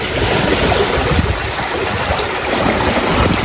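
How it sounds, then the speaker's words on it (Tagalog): Strong rushing river water roars continuously up close during heavy rain and wind, a dense, steady churning flow with no voices. "Lakas po ang agos ng tubig."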